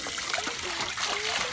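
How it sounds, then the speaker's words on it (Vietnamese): Water trickling and splashing steadily, a light running stream close by, with faint background noise. "Xả nước rồi, xả nước rồi."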